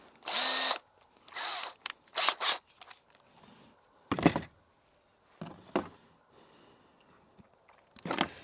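Several short bursts of a power drill whirring, each lasting under a second, with quiet pauses between them, close by.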